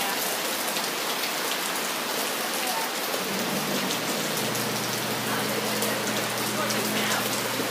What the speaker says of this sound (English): This is pure rain.